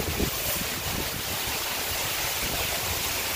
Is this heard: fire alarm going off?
no